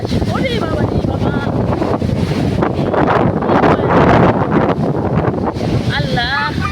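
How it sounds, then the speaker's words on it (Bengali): Strong storm wind at a riverbank batters the microphone in loud, roaring gusts, with water noise beneath and a voice speaking briefly through the buffeting. "নদীর পাড়ে একদম আমরা সামনে যেতে পারি না, প্রচন্ড বাতাস"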